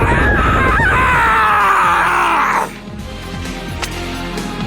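A character's drawn-out scream from the video game My Hero One's Justice 2, loud and sustained for over two seconds before cutting off, leaving game effects and background noise.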